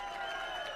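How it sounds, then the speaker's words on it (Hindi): Audience applause for a speaker introduced at a children's motivational event in Jaipur, a steady wash of clapping and crowd noise from many hands, continuous and moderately loud. "जोरदार तालियों के साथ नवीन भैया"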